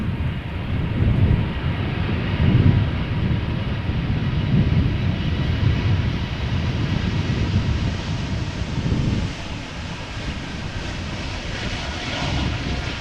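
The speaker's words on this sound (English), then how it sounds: "I'm always so surprised how quiet these E2 Embraer 195s are" An Embraer E2 195 jet airliner's steady engine roar rumbles from a distance at Amsterdam Schiphol Airport, broad and even, fading slightly toward the end as wind carries the sound away, with no voices.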